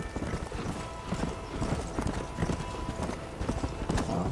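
Horse hooves in the video game Red Dead Redemption: a steady, busy clip-clop of hooves at a brisk gait over a dense background of in-game ambience, with occasional faint voices.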